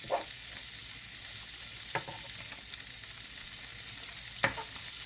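Pastrami and cabbage stirred together in a hot pan, with a soft steady sizzle and a few sharp scrapes or taps of the utensil spaced a couple of seconds apart, and no talking.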